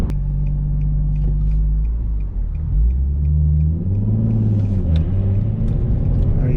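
A stock Nissan 350Z NISMO engine rumbles loudly from inside the car, revving up and down through gear changes in a deep, close, continuous growl.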